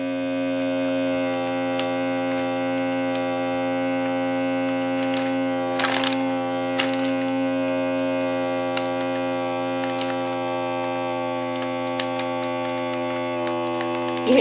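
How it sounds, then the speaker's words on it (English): A handheld vacuum sealer runs steadily on a mason jar with a continuous electric hum and whine, holding even throughout with a few faint ticks and clicks near the end. "I love this little vacuum sealer, this handheld vacuum sealer."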